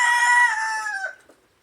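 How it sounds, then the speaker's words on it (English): A chicken inside a pig's pen on a pig farm gives a short, fairly loud call lasting about a second, then trails off into quiet. "A chicken eating from the house of a pig."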